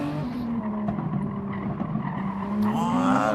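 Racing game cars brake hard on the Nordschleife, tyres squealing and skidding under a loud, continuous engine roar that rises in pitch toward the end, with a voice talking quietly underneath.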